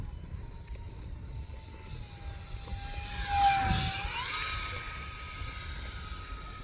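An E-flite SR-71 RC jet model flies past at partial power, a smooth rising and falling ducted-fan whine that swells as it nears overhead and fades again, heard outdoors with no talking.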